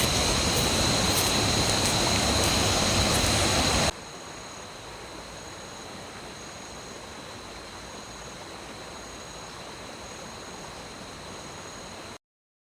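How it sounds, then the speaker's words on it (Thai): A waterfall at a Thai campsite resort roars as a constant broadband rush, loud and close for the first few seconds, then quieter and more distant but still steady until it cuts off. "เสียงน้ำตก"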